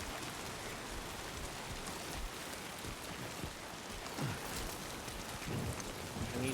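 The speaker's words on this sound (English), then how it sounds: "You gotta get out of this rain" Steady rain falls across a landscape in the video game Death Stranding 2, a soft, even hiss that stays faint and continuous throughout, with a few slightly louder swells near the end.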